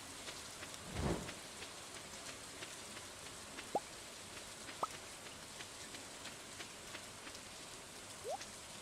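Steady rain patters throughout a lightning storm in Stardew Valley, broken by one low rumbling thunder burst near the start and a few brief sharp crackles later.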